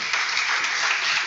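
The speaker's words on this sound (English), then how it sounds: "a round of applause for all of our sponsors" Brief burst of dense audience applause for sponsors at a lecture event, steady and fairly loud throughout.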